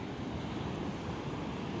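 Sea waves at Laboni beach in Cox's Bazar, a continuous low roar of surf mixed with wind rumble, steady and unbroken, with no voices.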